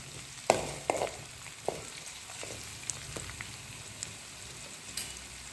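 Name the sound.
onion, curry leaves and mustard seeds sizzling in oil for tempering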